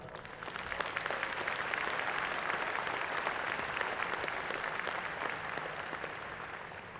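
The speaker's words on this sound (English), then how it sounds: "Let's acknowledge them with a round of applause" An audience at a university graduate school commencement applauds the faculty, dense sustained clapping from a large crowd filling the hall at an even, fairly loud level throughout.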